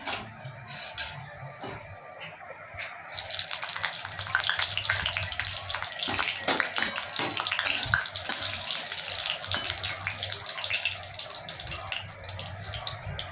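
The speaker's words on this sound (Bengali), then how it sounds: "ফোড়নে দেব কালো জিরে আর শুকনো লঙ্কা।" Black cumin and dried red chilli hit hot oil in a kadai, a steady close sizzle and crackle with a few sharp pops near the start, continuing evenly throughout with no talk.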